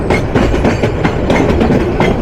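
The Turag commuter train runs through Tongi railway junction near Dhaka with a loud, continuous rumble and rhythmic clickety-clack of wheels over the rail joints, heard close up throughout.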